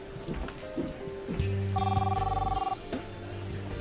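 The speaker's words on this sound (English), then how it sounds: "Must be Luis's phone" A telephone rings in a steady, fairly close electronic ring pattern, a repeating tone that stands out over a busy room of low background noise and faint voices in an indoor setting.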